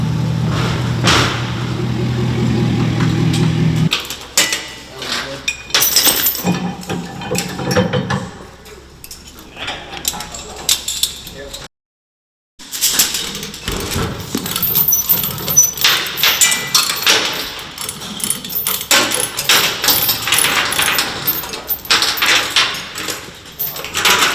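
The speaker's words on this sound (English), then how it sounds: "Just getting used to strapping the truck down" Ratchet straps being tightened and handled while tying a truck down for a dyno day, with irregular clicking, clanking and buckle knocks, a low hum early on, a brief silent gap midway, then more busy rattling.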